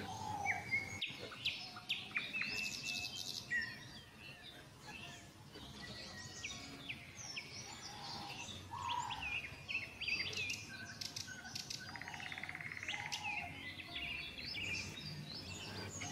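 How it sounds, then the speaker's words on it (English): Birds sing and chirp throughout a forest at sunset, many overlapping calls and whistled phrases forming a steady, moderately loud chorus over a low background hum. "The bird song reaches a crescendo, filling the ear with an eternal chorus."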